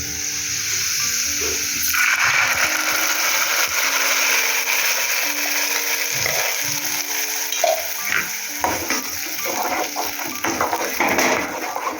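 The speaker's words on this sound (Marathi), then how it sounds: "आता हे वाटण करून घेतलं आहे आपण मिक्सरमध्ये मिक्सरच्या भांड्यात आता वाटण होतो" An electric mixer grinder whirs as it grinds a wet spice paste in its jar, a loud continuous churning roar with rattling and shifting pitch, no talk over it.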